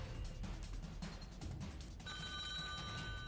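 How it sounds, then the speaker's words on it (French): A telephone rings on a game show set, a steady electronic bell tone entering partway through over a dense, loud studio background. "Et ça sonne."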